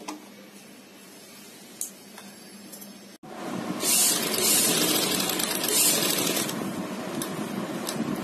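A sewing machine runs a straight seam through two joined pieces of fabric for a neckline, starting with a sudden loud, steady whirring drone that continues for several seconds after a quiet moment with a soft click.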